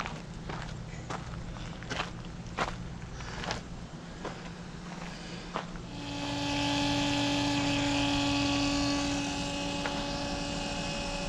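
A Latch.it RV macerator pump starts up partway through and runs with a steady, loud mechanical whine and hum while sending waste into a sewer inlet, after a stretch of scattered footsteps and handling knocks.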